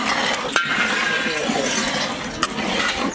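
Water poured steadily into a large pot of simmering tomato kuzhambu cooked for about sixty people, a continuous loud rushing splash with a couple of faint clinks, and no voices.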